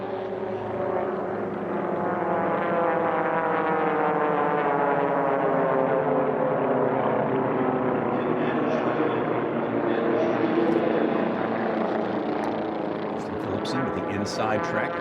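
Formula 1 class racing airplanes with O200 engines and fixed-pitch propellers approach on a 3.5 mile air race course, a loud droning engine roar rising in pitch, continuous and close, with a commentator talking over it.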